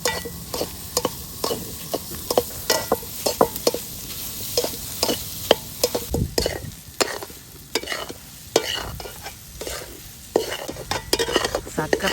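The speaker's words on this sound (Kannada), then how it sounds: "ಈಗ ಬೇಯಿಸ್ಕೊಂಡಿರುವಂಥ ಮೀನಿನ ಮೊಟ್ಟೆ ಹಾಕೋಣ ಚೆನ್ನಾಗಿ ಮಿಕ್ಸ್ ಮಾಡ್ಕೊಳ್ಳೋಣ" Village-style fish egg burji being stirred in a pan: a steady sizzle of frying roe with frequent sharp spatula scrapes and clicks against the metal, close and clear, with no talking.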